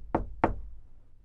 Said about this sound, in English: someone knocked at my door.